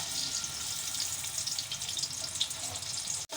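Sliced onions and green chillies fry in hot oil, a steady bright sizzle with crackling spatter running throughout, ending in a brief sharp clatter.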